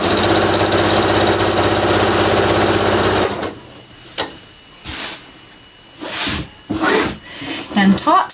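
A sewing machine stitches a fabric drawstring bag with a steady, loud, close whirring run for about three seconds, then stops, leaving a few short bursts of handling noise and brief sounds.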